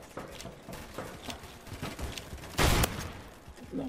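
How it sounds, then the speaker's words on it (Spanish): Gunfire in the Roblox shooter Phantom Forces, with scattered shots popping amid busy game noise and one heavy, loud blast near the end, heard close. "¿Quién me dispara?"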